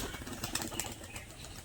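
A tumbler pigeon flaps its wings in rapid, fluttering bursts as it rolls in the air, a soft, close rustle over steady outdoor background noise, with no talking.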